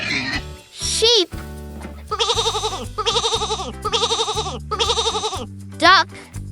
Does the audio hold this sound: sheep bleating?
yes